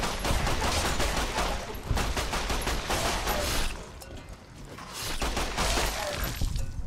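Repeated gunfire rings out in VATS targeting in Fallout: New Vegas, loud close bursts of rapid shots with sharp cracks. A brief lull near the middle separates them from a second volley.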